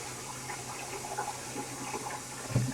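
Water runs steadily from a sink tap while dyed yarn is rinsed, a continuous close hiss and splash with a brief louder gurgle at the end.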